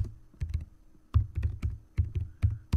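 Computer keyboard being typed on while entering a command, giving a quick, close series of light plastic key clicks in short irregular bursts, quiet and alone.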